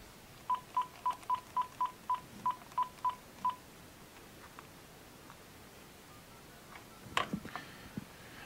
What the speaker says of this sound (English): So I'm just going to dial my cell phone number.